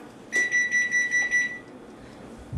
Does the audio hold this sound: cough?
no